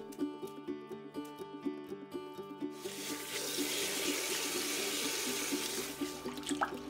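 Napa cabbage is rinsed in a large tub of water, with running water pouring and splashing steadily and close by. A faint repeating rhythmic background plays before the water starts, and there is no talking.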